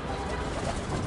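Pigeons coo low and close in a loft, a soft throaty murmur blended into a dense, noisy background.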